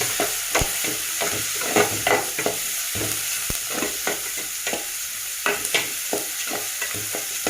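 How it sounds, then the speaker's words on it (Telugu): A spoon stirs turmeric and chili powder through a frying dish, giving repeated close scraping strokes and clicks over a steady background sizzle, with no talking. "కొంచెం పసుపు, కారం, కలుపుతాను."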